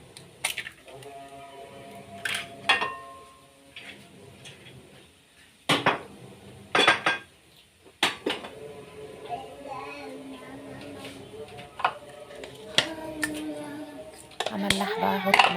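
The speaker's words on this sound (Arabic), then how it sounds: "اكسر بقى ال5 بيضات كده زي ما انتم شايفين" Five eggs cracked one after another into a bowl for a traditional Egyptian omelette, a series of sharp close taps and knocks scattered among quiet kitchen handling and occasional voices.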